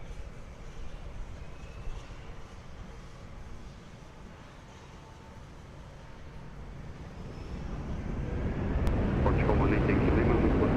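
An airplane at Lisbon Airport rumbles steadily in the distance, its broad engine roar swelling louder toward the end as it powers up on the runway.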